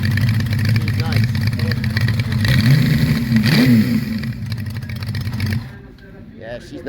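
A 1989 motorcycle with a stainless exhaust and oil cooler rumbles close by, its engine swelling in a brief rev midway before dropping away, while people talk over it.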